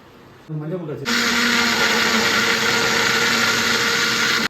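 A mixer grinder whirs loudly and steadily, blending shawarma paste with oil for homemade shawarma; it starts abruptly after a short burst of talk and runs continuously at full power before cutting off.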